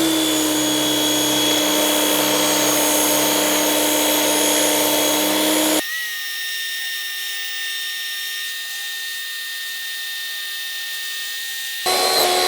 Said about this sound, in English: this thing is leaking quite a lot, causing this pressure washer to always run when it's not in use even